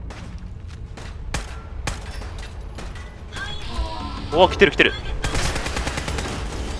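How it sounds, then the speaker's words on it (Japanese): A machine gun turret fires in the video game Fallout 4 (Automatron DLC). Scattered sharp bursts and clattering mechanical noises sit under excited talk, and the shooting grows denser toward the end. "あれマシンガンターレットだ"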